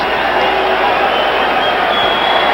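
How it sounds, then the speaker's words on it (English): Boxing arena crowd at the Muhammad Ali vs Jerry Quarry heavyweight fight, a dense continuous roar of yelling, screaming and mixed boos, loud and steady throughout with no pause. "the crowd yelling, screaming, mixed boos"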